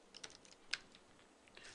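Quiet, close computer keyboard keystrokes: a few scattered taps and one sharper click near the middle, with no voices.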